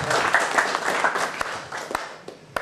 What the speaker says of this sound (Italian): Un applauso, grazie a tutti.